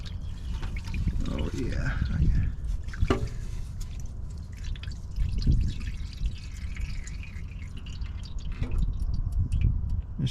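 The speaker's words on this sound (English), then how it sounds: "whenever you drain it, it doesn't get everything out of it" Transmission fluid from a 5th-generation Toyota 4Runner drains into a pan in a steady dribbling trickle with occasional drips, running throughout beneath brief talk.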